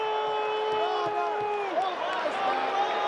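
Dense crowd murmur from baseball fans at a Dodgers vs Mets game, a steady wash of many voices with scattered shouts and brief cheers rising and falling throughout.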